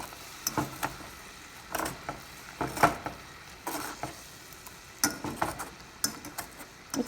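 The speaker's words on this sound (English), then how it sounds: "what I'm just going to start doing is mashing with the potato masher, mixing everything together" Strawberries mashed with a potato masher in a pot on medium-high heat for jam, giving irregular wet squelches and soft thumps that come in bursts over a low background, with no talking.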